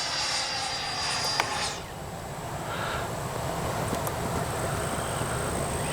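Freewing 90mm F-22 RC jet flying overhead, a steady distant whine of the ducted fan with a faint high tone that drops slightly early on, otherwise even and continuous with no talk.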